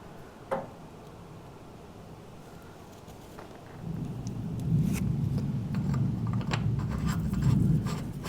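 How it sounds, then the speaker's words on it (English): Low thunder rolls in after a few quiet seconds, a distant, sustained rumble that swells and lingers, with a brief tap near the start. "if you can hear that thunder rumbling in the background"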